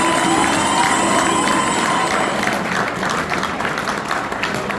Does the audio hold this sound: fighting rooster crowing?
no